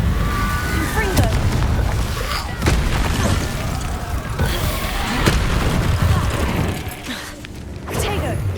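Confringo fire-blast spells explode in Hogwarts Legacy, a chain of punchy booms and crackling impacts bursting every second or so over a busy, dense bed of combat noise.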